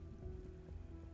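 Rain falls steadily in the Vampires Dawn 3 video game, a soft continuous patter at low volume with a faint underlying hum and no voices.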